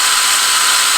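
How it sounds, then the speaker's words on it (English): A power drill boring out metal clutch weights from a Can-Am Outlander XMR ATV, a loud, steady high-pitched whine held close and continuous throughout. "we're drilling out our weights"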